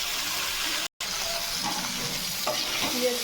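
Onions frying with salt and turmeric in a pan for a Bengali kabuli chana curry, a steady close sizzle with brief stirring scrapes and a momentary dropout partway through.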